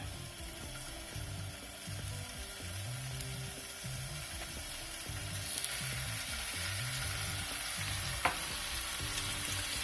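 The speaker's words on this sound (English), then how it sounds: "I'm just going to let them sit in the pan, in a hot pan for about a minute" Shrimp fry in a hot pan on high heat with a fairly quiet, even sizzle and a low rhythmic hum beneath, then one sharp metallic clink near the end.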